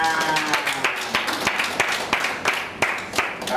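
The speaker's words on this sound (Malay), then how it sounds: "bagi tepukan untuk Datin Asfarila" An audience applauds for Datin Asfarila, a moderate burst of hand clapping with distinct individual claps standing out over the crowd, steady for a few seconds without much rise or fall.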